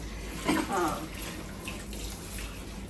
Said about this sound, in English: I'm going to be washing my utensils